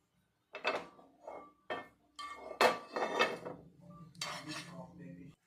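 A pan set on a stove to heat, heard as a series of close metallic clanks and scrapes of cookware in a quiet kitchen, irregular knocks spread over several seconds.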